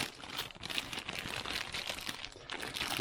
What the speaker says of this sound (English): Plastic and scissors just don't go well together.